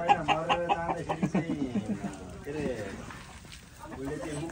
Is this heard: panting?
no